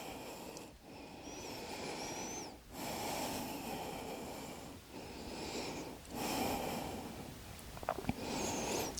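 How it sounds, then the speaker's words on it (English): During a full-body yoga toning routine, slow, deep breaths are drawn in and let out close to the microphone, making long breathy rushes in several cycles with a soft snort-like edge, with no speech. "Take a deep breath in."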